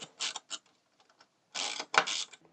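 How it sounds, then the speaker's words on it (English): A screwdriver drives a small EM screw into a metal bracket on a 1:8 scale 1966 Batmobile model, giving short close ratcheting, clicking bursts separated by brief pauses. "It's held in with two EM screws. Let's get the first one in here."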